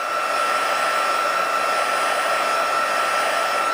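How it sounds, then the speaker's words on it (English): A heat tool blows continuously, a steady loud whooshing whine with a sharp tonal hum, drying ink on paper in a craft setting, with no talking. "I'm actually going to just hit a heat tool to him real fast and dry up some of them"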